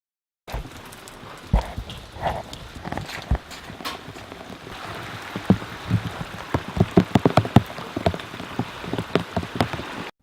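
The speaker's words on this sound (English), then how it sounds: "it was pouring and raining, so I was like, hey, let's go film the water" Heavy rain pours down outdoors in the mountains, a dense steady wash studded with loud, close drops and splatters hitting a surface, with no voices.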